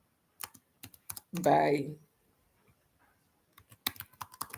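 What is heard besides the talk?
typing on a computer keyboard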